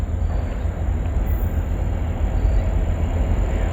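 Norfolk Southern locomotive 262 leading a northbound train, passing close by as a steady, loud low rumble and rolling clatter that holds evenly throughout without pause.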